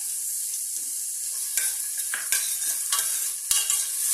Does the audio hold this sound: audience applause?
no